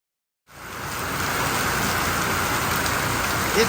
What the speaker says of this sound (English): It's been raining for over an hour like this.